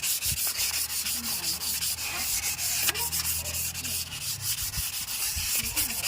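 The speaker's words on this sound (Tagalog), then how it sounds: "So ito lilihain na natin itong rotor disc na. Kailangan nililiha to para malinis saka pumantay yung kain." Sandpaper rubs a Toyota Avanza brake rotor disc in steady rapid back-and-forth strokes, a loud close scratchy rasp that continues without a break.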